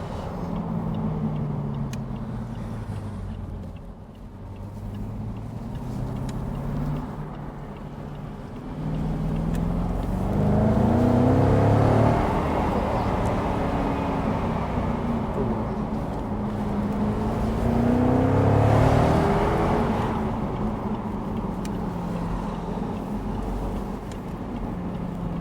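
Jaguar XK X150 engine pulls hard from inside the cabin, a steady low drone rising and falling as the car accelerates and eases off through a roundabout, continuous and fairly loud with no speech.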